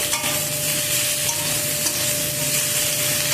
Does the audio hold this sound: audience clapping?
no